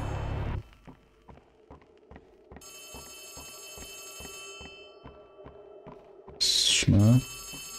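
A telephone rings from the right in the horror game Poppy Playtime Chapter 3, a repeated electronic ring over steady rhythmic thuds, fairly clear and close, ending in a loud burst of game noise.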